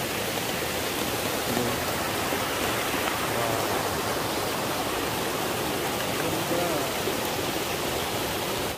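Steady, dense roar of rushing water fills the whole stretch, a broad hiss from a large waterfall in a mountain valley near Guryongsa, heard from a moderate distance.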